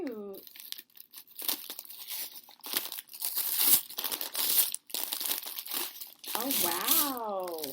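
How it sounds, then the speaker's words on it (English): Paper gift wrapping is torn and crinkled open, with loud rustling and ripping bursts throughout while someone talks over it. "I feel bad like tearing the paper."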